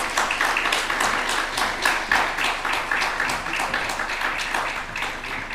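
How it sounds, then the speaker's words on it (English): An audience at a conference technical session claps for dignitaries approaching the stage, a steady, dense wash of many hands filling the hall at an even level throughout. "let's show some enthusiasm and clap for the dignitaries"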